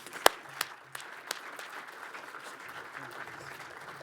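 Audience applause welcoming Senator Warner at a luncheon keynote, a few sharp claps at first that settle into a soft, steady patter, moderately distant, with some voices underneath.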